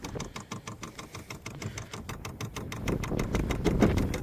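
Rapid, even ticking pulses from a Vevor diesel heater priming its fuel pump, installed outside a shed studio, with a low engine-like rumble that builds slightly louder toward the end.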